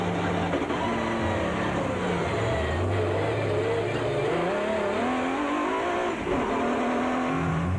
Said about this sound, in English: Sit back and enjoy the onboard action from the Nissan and the Ford.